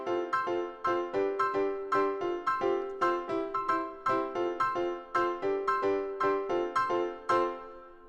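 A second acoustic-style piano layer for an Afropop highlife beat plays a busier repeating pattern of bright plucked chords in a quick, syncopated groove, alone and upfront.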